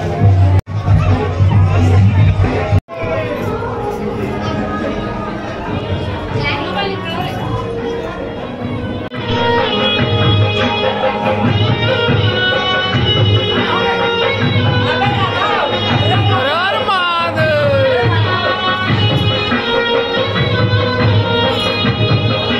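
A dense crowd murmurs at a Durga jhanki procession in Bhaisbod during Panchami, with loud, steady hubbub mixed with music for the whole stretch and a brief drop near the start.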